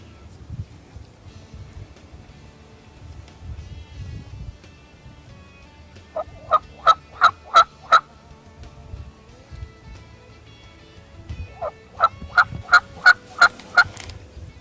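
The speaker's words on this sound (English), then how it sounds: "With some light calling, that gobbler started coming right in." Wild turkey gobbler gobbling in the field during a Kansas hunt, with two clear rapid bursts of loud, rattling gobbles rising over a quiet outdoor background.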